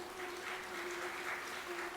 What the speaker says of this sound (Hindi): एक प्रभु जी ने बड़ी अच्छी ताली बजाई है, एक पुरुष ताली बजा रहे